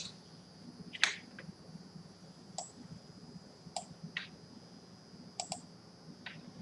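Several sharp, quiet clicks of a computer mouse, spaced irregularly one to two seconds apart, close-up over a low steady hum with no talking.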